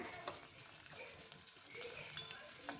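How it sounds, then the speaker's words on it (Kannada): Peanuts, green chillies and curry leaves frying in oil, a faint, steady hiss of sizzling with scattered crackles and light stirring clicks, no voices. "ಕಡಲೆ ಬೀಜದ್ದು ಕಲರ್ ಚೇಂಜ್ ಆಗೋ ತನಕ ಫ್ರೈ ಮಾಡ್ಕೊಬೇಕು"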